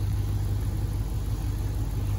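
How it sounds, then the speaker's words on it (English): A Dodge Ram engine idles steadily after a harmonic balancer replacement, a close, even low rumble with a continuous mechanical hum and no talk over it. "We got the engine running. We're letting it sit at idle."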